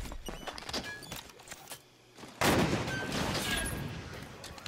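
Railgun shot in Halo 5: Guardians, a sudden loud burst after a brief hush, followed by a sustained crackling roar of combat, preceded by scattered gunfire and movement.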